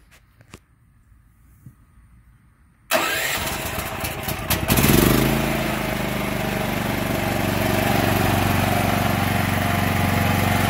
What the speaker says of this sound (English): Once the cable is connected to the power input, I can start the generator.